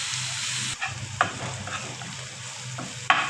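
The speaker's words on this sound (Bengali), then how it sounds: "তেল দিয়ে দিলাম পরিমাণ মতো লবণ এখন এটাকে কিছুক্ষণ ফ্রাই করতে হবে" Onions frying in oil with salt in a pan, a continuous sizzle broken by a few scraping stirs, close and moderately quiet with no talking.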